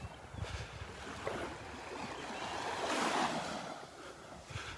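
Ocean surf rolling onto Captiva Beach, a continuous wash of breaking waves that swells louder midway, heard up close with no one speaking and some wind in the background.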